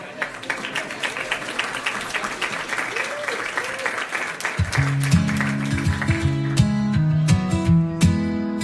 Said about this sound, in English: Everybody give a big round of applause to Zane.